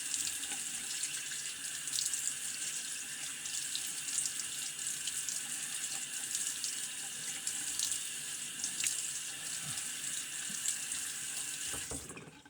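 A bathroom tap runs steadily into a sink for a rinse during a wet shave, a continuous, even gush of water lasting about twelve seconds with no voices, cut off abruptly at the end.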